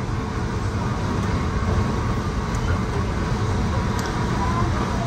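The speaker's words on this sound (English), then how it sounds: "The train." Steady low rumble of a long CSX freight train rolling past, continuous and fairly close, with no breaks in the noise.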